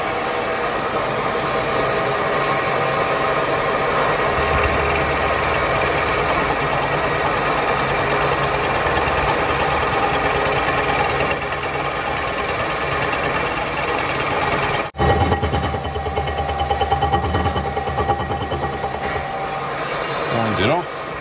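Milling machine in a workshop cutting an inlet cutout, a steady loud mechanical whir and grinding drone running continuously with a brief dip near the end.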